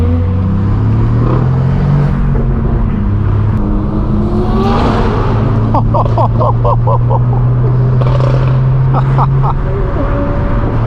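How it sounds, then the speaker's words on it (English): A McLaren supercar engine with a tuned exhaust revs and holds a loud, droning exhaust note, with sharp rapid crackles, while people talk over it. "That McLaren sounds awesome. He's definitely got some kind of tune on it."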